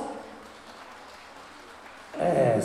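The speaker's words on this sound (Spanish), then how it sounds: "Fuerte los aplausos, invitados." Wedding guests break into applause at a reception, a short burst of clapping that swells suddenly near the end after a quieter stretch with some speech.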